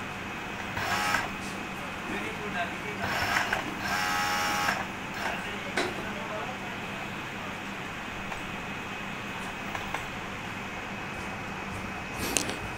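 A sewing machine runs in short bursts of rapid mechanical stitching along the side seam of a cut-panel full-sleeve T-shirt, with pauses and a steady background hum between runs.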